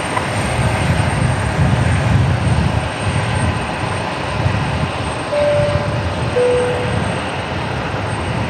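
An airliner takes off from runway 19 left at Brisbane Airport, its engines roaring loudly in a dense, pulsing rumble that stays strong throughout, alone with no voices.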